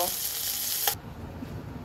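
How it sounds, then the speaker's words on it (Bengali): Bele fish fries in oil with a steady close sizzle that cuts off abruptly partway through, leaving quieter background noise. "দেখো মাছটা কিন্তু খুব সুন্দর ভাজা হয়ে গেছে, আমি এখন এটাকে নামিয়ে নেব"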